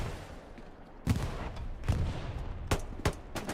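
Distant battlefield gunfire from the Hell Let Loose World War II shooter: scattered sharp shots and short bursts crack at irregular intervals over a low, steady rumble of fighting.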